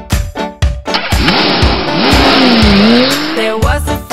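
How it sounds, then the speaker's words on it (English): Toy sports car sound effect: a loud revving engine rising and falling, followed by a long sustained tire squeal, with short mechanical clicks before and after. "Sports car."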